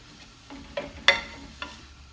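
Onions fry in a pan, a soft sizzle under a few sharp scraping and stirring knocks, one louder clack near the middle, with no voices.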